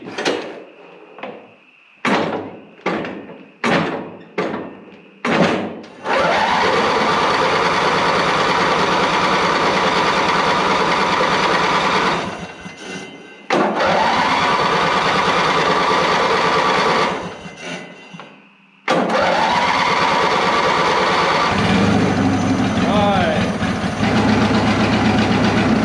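A small engine is hand-cranked with several quick pull-start bursts, then catches and runs steadily. It cuts out briefly twice and restarts, idling near and fairly loud with no talk.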